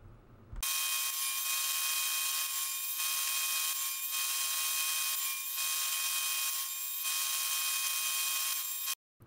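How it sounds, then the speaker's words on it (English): A table saw fitted with a dado blade cuts notches in wooden legs, a loud continuous high whine that starts abruptly, stays steady with slight pulsing, then cuts off near the end. "With my dado blade installed in my table saw, I set it to 7/8 of an inch. I then cut out all the excess wood so the legs will fit together."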